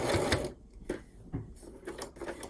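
Sewing machine stitching quilt binding on a patch heart, short bursts of rapid mechanical whirring separated by brief pauses, close and clear with no talk.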